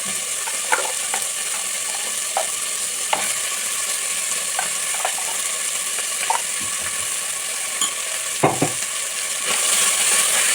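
A steady sizzle of ground masala frying in a pan for ivy gourd curry, with scattered scraping clicks of a spoon stirring, continuous and close.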